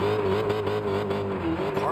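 A 900hp Dodge Demon in Gran Turismo 7 drifting on snow at Lake Louise, its engine holding a steady loud drone with slight pitch wobbles and a brief dip near the end, close and continuous, no talk.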